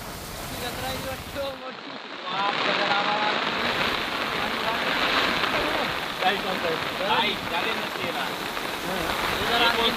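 Heavy rain pours down steadily over Hingoli town in a dense, hissing roar that grows louder after a brief dip, with a voice faintly audible underneath.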